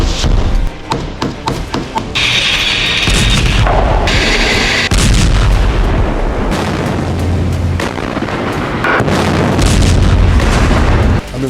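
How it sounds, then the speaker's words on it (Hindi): Mortar launcher fire in Gaza: a series of sharp, heavy booms and blasts, some rapid and clustered, with rumbling echoes and continuous loud battlefield noise throughout, no speech. "हमास ने आईडीएफ पर अटैक किया और मोर्टार लॉन्चर से हमला करके"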